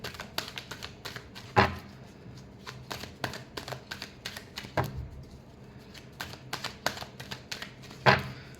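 Tarot cards being shuffled by hand at close range: quick, dry riffles and flicks in bursts, with a couple of sharper snaps as the deck is squared. No talk.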